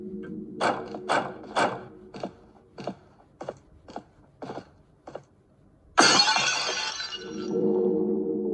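A ceramic vase shatters in a horror video game: a run of sharp knocks comes first, then a loud burst of breaking crockery that trails into a dull rumble.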